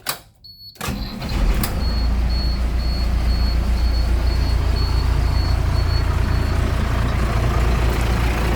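A bus engine starts with a sharp burst, then settles into a loud, steady diesel idle with a deep rumble close by and a faint high whine on top. Nobody talks.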